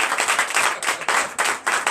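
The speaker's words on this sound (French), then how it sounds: "Donnez l'acclamation à notre Père." A church congregation at a Sunday service in Comè, Benin, claps in acclamation, a dense, steady wash of many hands filling the room, rising and dipping in waves with no voices standing out.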